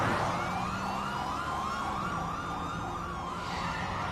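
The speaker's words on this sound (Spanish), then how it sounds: "Cuando el hombre escuchó la sirena" A police siren wails, rising and falling steadily in a continuous loop, loud and fairly close, over a low rumble of traffic.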